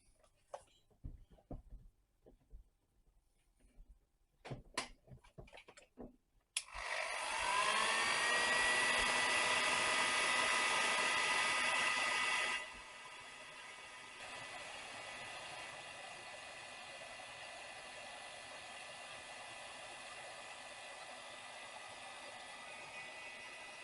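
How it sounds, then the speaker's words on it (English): Heat gun blasting air onto wax inside the chassis of a Marconi CR100 radio being restored, a loud steady roaring hiss that starts abruptly, runs at full strength, then drops to a slightly lower steady level. "if I hit this with a heat gun, that should cause all of that to melt"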